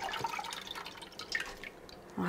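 Buttermilk drips from freshly made homemade butter as it drains, scattered small drips and trickles, close and fairly faint, with a voice starting at the very end.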